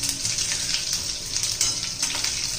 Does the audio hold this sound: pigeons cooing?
no